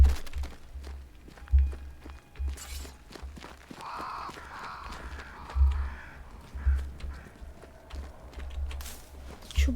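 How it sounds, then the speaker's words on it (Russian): Crows in the video game Banishers: Ghosts of New Eden: a few harsh caws rising over a thumping, repeating low rhythm of footsteps and ambient game sound. "Ладно, это наверняка вороны были."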